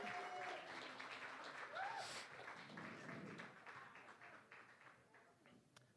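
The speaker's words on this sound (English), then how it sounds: "They're going to give you a round of applause as you head back to your seats" Audience applause at a live magic comedy show in Atlanta, a steady wash of many people clapping with a few whoops, tapering off gradually toward the end.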